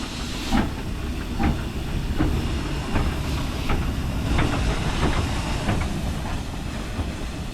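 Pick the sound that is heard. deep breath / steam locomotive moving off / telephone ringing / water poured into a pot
steam locomotive moving off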